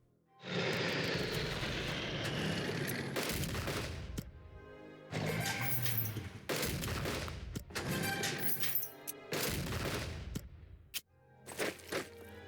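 Aircraft bombing run in the wartime strategy game Unity of Command 2: a loud engine drone followed by bursts of explosive gunfire and impacts in separate clusters, with short gaps between them.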